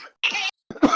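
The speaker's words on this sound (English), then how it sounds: "Who's coughing?" Two harsh coughs from a person, close and loud, with a short silent gap between them and no talk over them.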